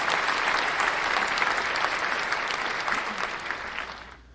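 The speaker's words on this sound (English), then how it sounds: "I'm giving you the card applause." A crowd claps in sustained applause, dense and even, then gradually fades toward the end.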